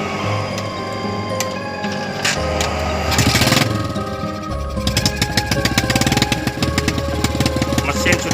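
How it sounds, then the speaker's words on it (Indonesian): An old motorcycle engine rigged to winch timber about 150 metres starts up and runs loud and close, with a low rumbling drone and rapid mechanical knocking that grows steadier and denser in the second half. "Mesin sudah dihidupkan, siap tancap."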